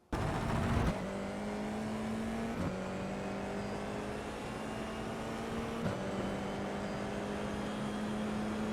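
An FIA F4 race car engine in a racing simulator game at Magny-Cours holds a steady high buzzing drone, with two brief dips where the pitch drops and then climbs again, loud and constant throughout.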